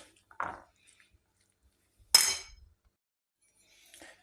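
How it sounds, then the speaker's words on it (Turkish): A spoon stirs kuru fasulye piyazı, a dried white bean salad, in a bowl after lemon juice goes in. Two separate close clinks of utensil against dish sound about two seconds apart, with near silence in between and a faint third touch at the end. "Üzerine bir adet limon suyu ilave ediyoruz. Karıştırıyoruz."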